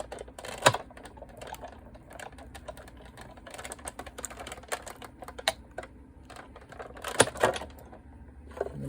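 Card stock with a dress-shape die runs through a manual die-cutting machine, giving a steady run of small clicking and ratcheting taps with a few sharper knocks, close and fairly quiet.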